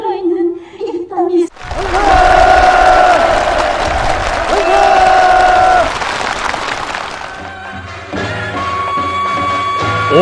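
Participants at a housewarming meeting in North Korea burst into enthusiastic applause. Loud, dense clapping from a large crowd runs under a narrator's voice and fades as other sounds take over near the end.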